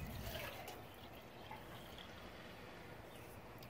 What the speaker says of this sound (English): Water my plants, give them a little food.